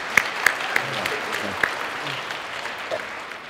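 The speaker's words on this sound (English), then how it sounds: "I'm going to applaud everybody." Audience applause at a science debate on parallel realities and the multiverse, a steady wash of clapping with a few sharper individual claps standing out near the start.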